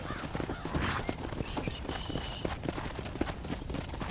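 Horse hooves clip-clop at a steady trot in Red Dead Redemption, a repeated near rhythm of soft knocks over a busy game backdrop with other ambient noise.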